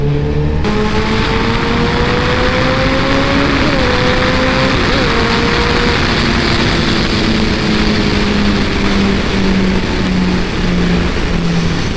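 A 2014 Kawasaki ZX-14R sport-touring motorcycle engine roars loudly and continuously on a road, rising in pitch through a hard pull, briefly dipping at a gear change, then climbing again.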